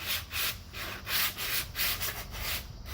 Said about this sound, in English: first I'm going to sand them with 60 grit